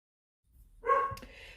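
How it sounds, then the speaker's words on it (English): A dog barks indoors, one short, fairly close bark after a moment of silence, with some muffled follow-on sound. "excuse the dog, he's barking at somebody"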